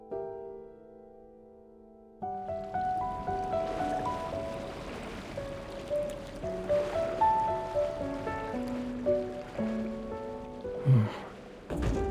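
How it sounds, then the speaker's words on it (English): Ocean waves in the video game Love and Deepspace wash softly and steadily beneath gentle tonal music, starting quiet and swelling after a brief lull, with no voices. "Listening to the ocean might help us fall asleep."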